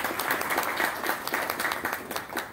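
An audience applauds at a football event honouring a Tottenham legend and 1978 World Cup winner with Argentina; dense, steady clapping fills the whole stretch at an even loudness.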